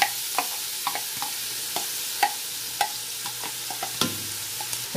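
Bacon and onion fry in a pan with a loud, constant sizzle, punctuated by regular clicks and scrapes of stirring; no one speaks.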